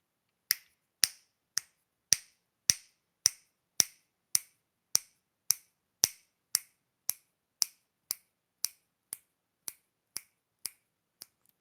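A steady series of about twenty sharp finger snaps rings out alone at an even pace, each one crisp and close, starting loud and gradually growing a little softer toward the end.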